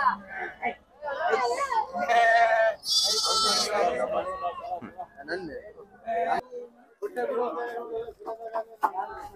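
Sheep and goats bleat at the Chitradurga sheep market, several loud calls rising over busy chatter and nearby voices talking throughout.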